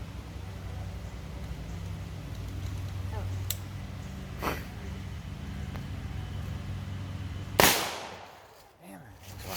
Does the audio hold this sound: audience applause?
no